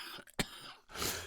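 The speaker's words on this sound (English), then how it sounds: "when we get into a bit of a coughing fit" Harsh coughing after smoking cannabis, a few ragged throaty bursts and a throat clearing in quick succession, close and fairly quiet.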